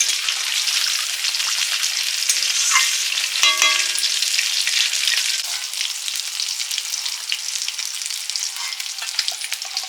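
Katla fish belly pieces fry in oil with a loud, continuous crackling sizzle, steady throughout with a few brief pops and scrapes of stirring.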